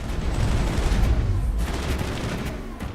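Rapid gunfire in a Mass Effect firefight, a dense, loud barrage of shots and booms rattling continuously with no voices over it.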